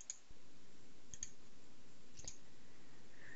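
A few sharp, isolated mouse clicks sound at separate moments while working in STAAD.Pro structural software, over a faint steady background.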